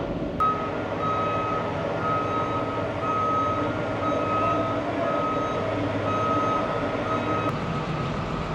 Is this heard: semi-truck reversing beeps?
yes